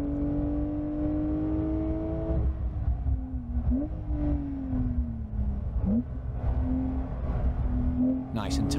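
A 2020 Porsche 911 Carrera S on a race track at speed, its exhaust droning in a steady tone that rises and falls through shifts and corners, heard from inside the car under a voice.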